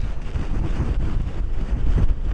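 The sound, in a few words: strong hurricane winds, about 83 mph, Outer Banks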